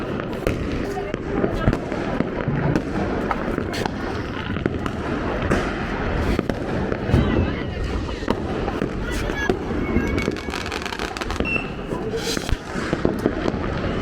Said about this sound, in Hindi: खूब पटाखे चलाए, खूब मस्ती की हमने